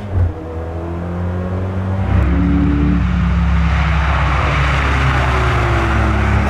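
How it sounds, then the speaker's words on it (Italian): A supercar's engine revs hard on a race track and climbs in pitch through the gears, a loud, sustained roar accelerating at full throttle close by. "Accelera tutto."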